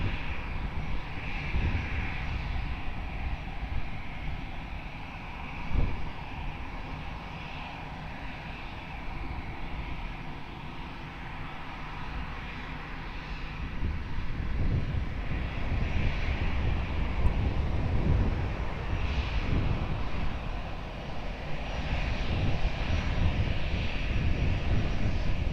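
An airplane landing on runway 20 at Lisbon Airport sounds as a distant, fairly faint engine rumble with soft rising and falling whines, swelling slightly toward the end, with no voices present.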